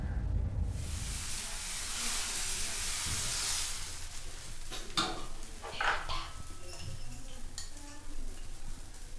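A pan of chicken curry hisses and sizzles loudly for a few seconds, then quieter bubbling follows on reduced heat with a few clinks of a utensil against the pan.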